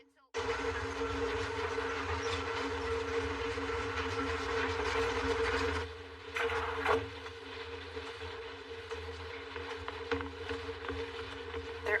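A cargo train runs steadily on rails, with a constant low rumble and a rattling wash that holds for about twelve seconds and softens briefly midway, heard alone and fairly close.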